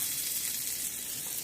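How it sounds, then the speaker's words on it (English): Butter sizzles in a hot pan before crepe batter goes in, a close, steady hiss of frying fat with no voices. "See how the butter's sizzling."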